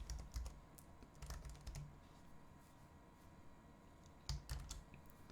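Keys clatter on a computer keyboard in short, quiet bursts of clicks separated by pauses, close and alone while VHDL code is being entered.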